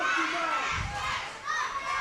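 A capacity crowd at the Bullet chants for champion Jack Passion, a dense, continuous roar of many voices filling the space at close range.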